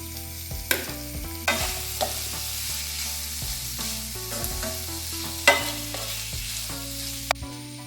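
Prawns frying in masala in a pan, a steady close sizzle broken by repeated spoon scrapes and knocks against the pan at an irregular pace, with no talking.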